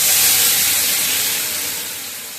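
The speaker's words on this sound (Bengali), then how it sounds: "ফোড়ন দিচ্ছি বন্ধুরা গোটা লঙ্কা, তেজপাতা আর জিরা" Whole chillies, bay leaves and cumin tempered in hot oil: a loud, close, steady sizzling hiss that slowly eases off.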